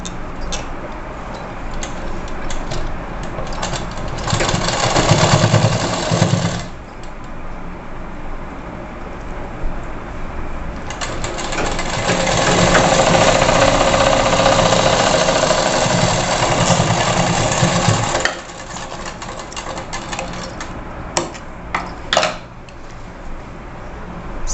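A sewing machine stitches a seam on a net blouse, running loud and steady in two long bursts with a brief pause between and scattered clicks near the end.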